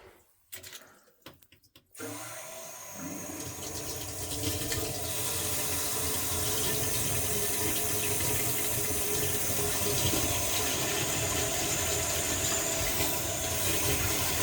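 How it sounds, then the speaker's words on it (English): Water gushes and splashes steadily into a drain pipe during a plumbing install of a dishwasher, water heater and toilet, rising after a few quiet knocks into a continuous loud rushing. "Splash right into the pipe there."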